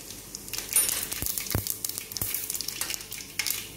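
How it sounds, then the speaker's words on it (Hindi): Mustard seeds and cumin sizzle and pop in hot oil in a home kitchen, a steady crackle with sharp spitting pops and a stirring clink, close up, no talk. "आधी छोटी चम्मच राई डालेंगे, 1 चम्मच जीरा डालेंगे।"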